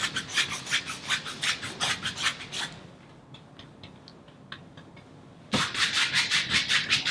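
A paintbrush loaded with blue paint scrubs crisscross strokes across a canvas in quick, rhythmic rasping bursts. The strokes break off for a few quiet seconds, then resume at the same brisk pace.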